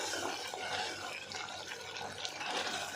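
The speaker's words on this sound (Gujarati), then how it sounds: "હવે આપણે એની અંદર થોડુંક પાણી ઉમેરીશું" Water is poured into a cooked gravy for a dhokli curry, a soft continuous splashing and trickling that runs the whole time, close and fairly quiet.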